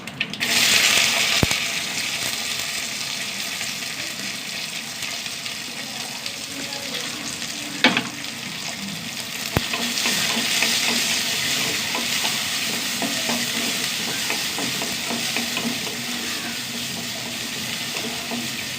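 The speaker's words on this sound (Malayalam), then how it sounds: "ഇത് നന്നായി വഴണ്ട് വഴണ്ട് വരട്ടെ ഉള്ളി വഴണ്ട് വന്നു" Small onions (shallots) sizzle steadily in a hot pan after mustard seeds go in, a continuous frying hiss with occasional stirring clinks and scrapes throughout.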